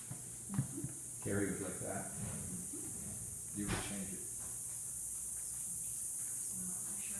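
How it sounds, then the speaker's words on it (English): Cicadas drone in a blooming desert, a constant high, hissing buzz sitting steadily in the background while people chat intermittently over it. "Cicadas. What are they? The little bugs? That make the noise."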